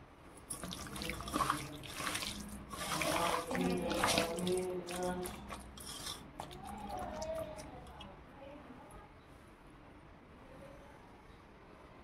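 Basmati rice is washed under a running tap, with water splashing and sloshing close by for several seconds before it tapers off to faint trickles.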